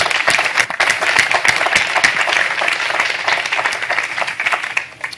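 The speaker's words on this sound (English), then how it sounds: "let everyone give you the huge round of applause that you deserve" A large audience on the Celebrity Cruises ship Eden gives designers a long, loud round of applause, dense and steady clapping throughout before easing slightly at the end.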